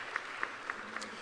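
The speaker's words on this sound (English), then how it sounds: "So you should give yourselves a round of applause" Guests at a university presidential awards dinner clap in a steady wash of applause, with a few more distinct claps standing out at regular intervals.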